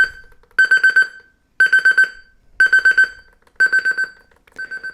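The buzzer of a Sangean RCR-22 alarm clock radio plays as a volume preview: loud, shrill bursts of four rapid beeps each, repeating five times with short pauses, and the last group slightly quieter.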